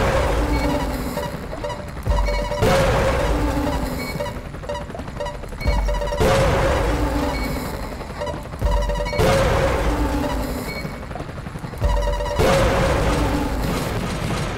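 Repeated booming blasts and crashing bursts from a video game battle against a hacker and quadcopters, recurring roughly every three seconds at steady loudness with no talk over them.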